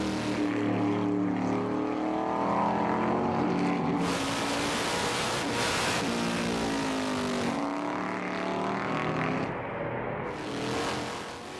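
A 1969 L88 Corvette race car with its engine held at lower revs roars loudly on track, the note rising and falling through gear changes, a close-up pass that fades at the end.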